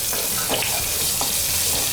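Crushed garlic fries in a pan after cumin seeds have popped, a steady close sizzle with a few scraping stirs of a spoon running through it, no voices.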